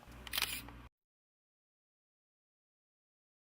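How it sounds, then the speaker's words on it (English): A Canon EOS 20D digital SLR releases its shutter in a single quick mechanical clack near the start, followed by silence. "Press the shutter all of the way down to take the picture."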